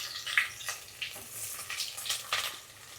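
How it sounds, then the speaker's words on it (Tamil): Spices and sliced onions frying in a mix of ghee and oil for prawn biryani, a steady close sizzle with scattered crackles and pops and a few stirring scrapes, no voices. "நம்ம போட்டிருக்க நெய் எண்ணெயிலே வந்து நல்லா வதக்க விடுங்க."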